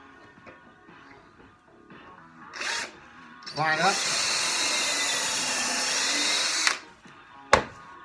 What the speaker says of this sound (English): now I'm going to go back and I'm going to do the top drill here